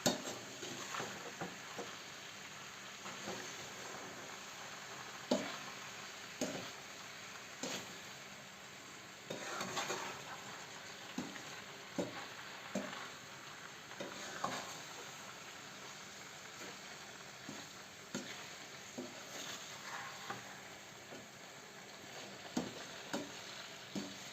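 Thick plum jam cooking in a pot, stirred with a utensil that gives soft scrapes and occasional clinks against the pot over a faint bubbling simmer, fairly quiet and close, with no speech.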